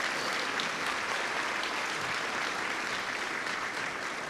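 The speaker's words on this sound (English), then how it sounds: "Let's give all of them a round of applause." An audience at a college event in Pasadena gives a round of applause, dense steady clapping that holds at an even level throughout without any voices.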